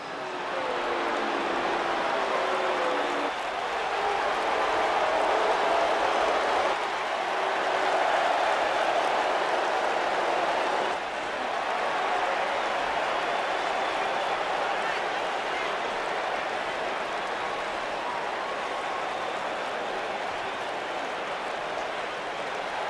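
A video game arena crowd in WWE 2K19 cheers during a women's championship wrestling match, a steady loud roar of cheering and noise that continues for over twenty seconds with slight swells.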